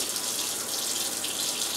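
Tap water runs steadily into a sink at close range, a continuous hissing splash with no voices.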